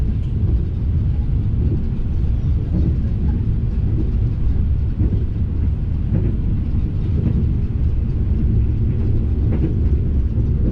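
Steady low rumble inside a passenger train on the Parahyangan line running between Cikampek and Purwakarta, continuous and close throughout with faint rattles, no voices.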